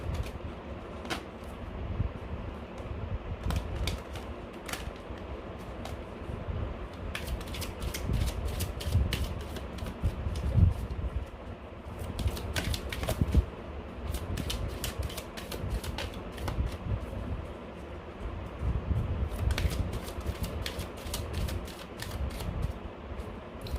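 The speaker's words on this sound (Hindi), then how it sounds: "Last shuffle." A tarot deck shuffled by hand close up, with repeated quiet bursts of crisp riffling and snapping cards in uneven clusters over a soft background.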